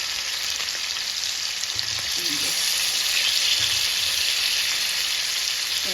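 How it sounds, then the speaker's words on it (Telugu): Marinated fish pieces frying in hot oil give a loud, steady, close sizzle that holds without pause for the whole stretch, with no voices. "ఆయిల్ వేడిగా అయిపోయింది. ఫిష్ 2 పీసెస్ డ్రాప్ చేసుకోండి."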